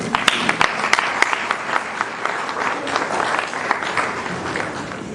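A crowd applauds a company collaborator at a corporate launch evening, steady dense clapping throughout with a few sharp individual claps standing out, fairly loud and continuous with no clear talk.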